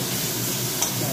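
Leafy greens (shak) fry in hot oil in a home kitchen pan, giving a steady soft sizzle with one brief scrape of stirring near the end.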